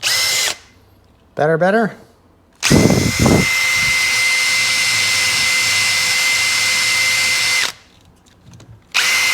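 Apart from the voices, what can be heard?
drill with wire brush cleaning Seadoo battery terminals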